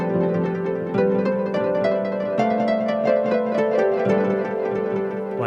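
Electric guitar through a Strymon DIG v2 delay in 12-bit mode with light modulation and repeats set high, notes cascading into a steady, moderately loud wash of overlapping echoes with no talking.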